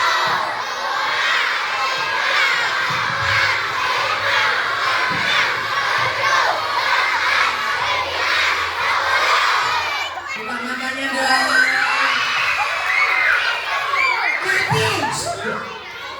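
A crowd of children shouting loudly at a religious Maulid Nabi commemoration gathering, a sustained roar of young voices that dips briefly before rising again, with an adult speaking over it.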